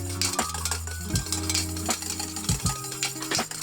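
A whisk scrapes and clinks against a towel-wrapped metal pan in quick, uneven strokes while clarified butter is mixed into hollandaise sauce, with a steady background hum throughout.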